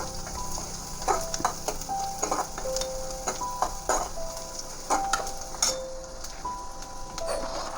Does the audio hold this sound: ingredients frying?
yes